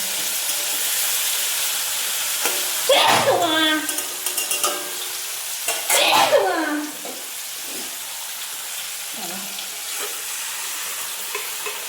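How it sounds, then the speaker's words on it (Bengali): Tomato sautés in a kadai with a continuous close sizzle and occasional stirring clatter, and a voice speaks briefly twice over the frying. "এই যে টমেটোটা কষতে দিয়েছি"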